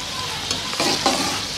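Onions fry in hot oil in a kadhai, close and loud, with a dense continuous sizzle broken by a few quick stirring scrapes.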